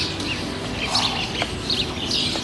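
Several birds chirp and tweet persistently in short bursts over a steady background hiss, fairly close but not loud, with no voices.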